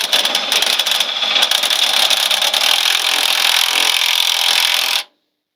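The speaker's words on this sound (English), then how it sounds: "Now we do just the opposite of loosening that bolt. We tighten it." A ratchet or wrench rasps steadily and close while a bolt on a tow hitch is tightened, a continuous loud grinding-rubbing sound that stops abruptly near the end, with no talk.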